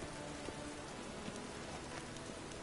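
Steady rain falls in The Witcher 3 video game, a dense hiss of drops on surfaces with no other sounds standing out. It is constant and even throughout the short stretch, at a moderate level.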